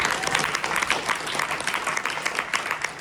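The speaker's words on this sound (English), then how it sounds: "Can we give him a round of applause, please?" An audience applauds a newly introduced general manager at a corporate leadership event, a steady, moderately loud wash of clapping that holds for the full three seconds without speech.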